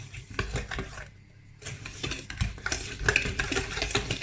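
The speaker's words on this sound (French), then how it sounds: "j'ai remué, j'ai fouetté le jaune d'œuf avec le sucre et la maïzena" A whisk beats egg yolk with sugar and cornstarch in a bowl for a galette frangipane, rapid rhythmic scraping taps with a brief pause partway, close and fairly loud, no talking.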